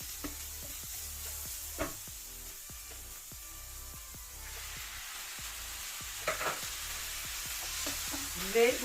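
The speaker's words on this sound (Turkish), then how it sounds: "şimdi doğradığım domatesleri içine atıyorum" Chopped tomatoes fry with soft sizzling in a pan, occasional stirring scrapes and clicks, a steady quiet frying hiss throughout.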